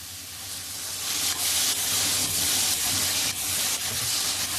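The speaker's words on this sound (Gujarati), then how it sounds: "જો હવે શાક એડ થઈ રહ્યું છે દૂધી બટાકાનું" Bottle gourd and potato pieces hit hot oil already seasoned with chili and turmeric, setting off a loud, steady sizzle that swells and holds with faint stirring scrapes, no voices.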